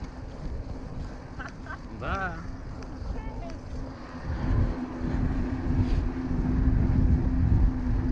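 Steady, rumbling headwind buffeting the microphone while riding on asphalt, growing louder toward the end, with a brief spoken word early on.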